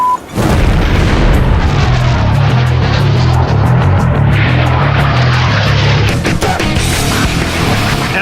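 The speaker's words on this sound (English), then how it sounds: "the Swedish Air Force is putting a prototype Saab JAS-39 Gripen fighter through the paces" A prototype Saab JAS-39 Gripen fighter jet of the Swedish Air Force roars past, a loud, sustained, booming engine rush that fills the whole stretch with a steady droning tone.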